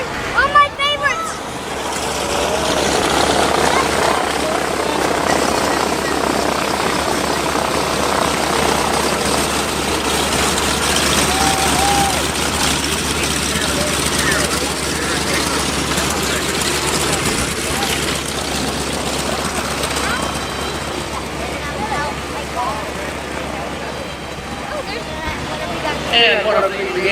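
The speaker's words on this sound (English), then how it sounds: "one of the liaison aircraft, little Piper Cub type aircraft, the L-2, flown by Chris Houston from the ferry." A Piper Cub type L-2 liaison aircraft flies at an airshow, its propeller engine droning loudly and steadily throughout, with voices talking over it.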